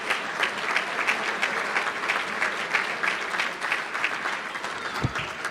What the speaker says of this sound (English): One more round of applause for all of our award winners tonight,